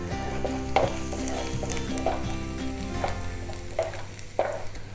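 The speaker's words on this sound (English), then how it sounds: "We're going to carry on sauteing the onions until they are golden brown in color." Onions sautéing in coconut oil with green chili and ginger, a steady close sizzle with regular scraping stirs roughly every second, no voices.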